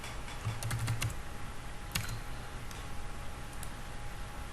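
Fingers type a short word on a computer keyboard while working in Photoshop, a quick burst of light clicking keystrokes followed by a few isolated taps, close and fairly quiet.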